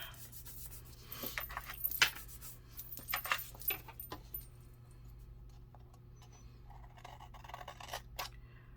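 Scissors snip and trim paper while a planner layout is lined up, a few close, crisp cuts and rustles clustered early, then quieter handling sounds.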